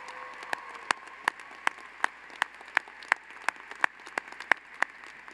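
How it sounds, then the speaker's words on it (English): Steady applause from a graduation ceremony crowd, with sharp individual claps standing out in a regular rhythm over a continuous patter, fairly loud and without speech. "I think we owe you a very loud round of applause."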